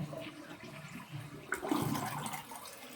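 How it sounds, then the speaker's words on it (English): A household toilet flushes with a rushing surge of water midway through, preceded by softer running and trickling water during a leak repair, close and fairly loud. "I'm going to flush again because I didn't really take much out."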